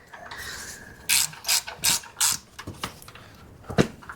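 A ratchet spanner working on a Land Rover 110 build, a quiet start followed by a run of four sharp, evenly spaced ratcheting bursts, then a few softer clicks and one last snap.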